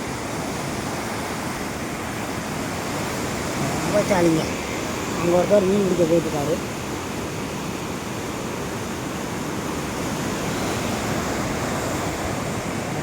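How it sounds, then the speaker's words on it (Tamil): Water released from Mayanur Dam rushes in a steady, broad roar throughout, with a person talking over it in the foreground. "இங்கே பாருங்க, அணையிலேருந்து திறந்து போகிற தண்ணி எப்படி போகுதுன்னு சூப்பராக இருக்குது பார்க்க."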